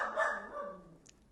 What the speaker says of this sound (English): We can hear Parker barking in the background